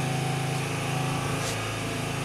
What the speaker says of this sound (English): going to do now is to drill to make a hole